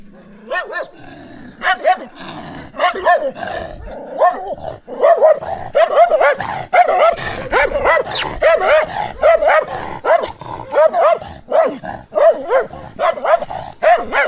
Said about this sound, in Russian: собаки охраняют немногочисленные жилые дома